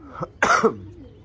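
A person coughs twice, a short cough followed by a louder, harsher one with a throaty edge, close to the microphone in a quiet room.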